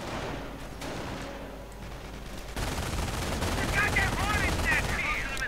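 Sniper shots and machine gun fire in a Company of Heroes battle, the gunfire dense and rattling. It grows louder halfway through, with other battle noise mixed in.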